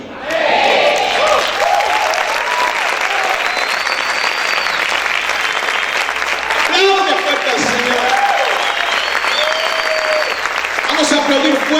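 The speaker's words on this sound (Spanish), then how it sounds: "Aplaudir fuerte al Rey de Gloria." A church congregation applauds loudly and continuously for several seconds, dense clapping filling the room while voices call out over it.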